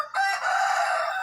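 A rooster crows once, loud and close, a single drawn-out call with no other sound around it.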